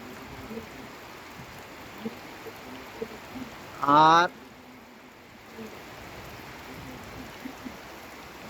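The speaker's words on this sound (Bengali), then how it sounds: "আবার কার কার বৃষ্টির এই শব্দটাও অনেক ভালো লাগে" Heavy rain falls in Sylhet, a steady wide hiss of downpour with scattered drops on surfaces, broken briefly by a short spoken word and a clattering burst midway.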